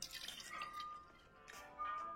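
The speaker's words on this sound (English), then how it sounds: "Next, the milk." Milk poured into a blender, a soft, quiet trickle with light drips and small splashes, close by and fading in and out over a couple of seconds.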